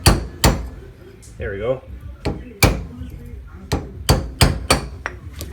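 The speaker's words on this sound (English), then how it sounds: "we're just going to tap it with this cold punch away from it." Sharp metallic hammer strikes on a cold punch against a pop-up tent trailer's wheel bearing, about ten loud close blows in an irregular rhythm, with a brief spoken remark between them.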